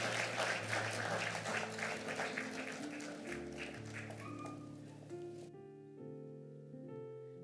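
A church congregation applauds at a retirement ceremony: a few seconds of dense clapping that thins out and gives way to sustained music.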